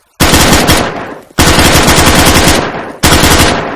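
Machine gun fire in the IFA3 WarMod video game: three loud, sustained automatic bursts, each rattling for over a second and tapering off before the next begins.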